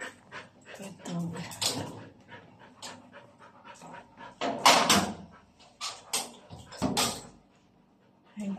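An excitable, hyperactive dog pants rapidly and whimpers close by amid scuffling and a door sliding, while someone speaks to it intermittently.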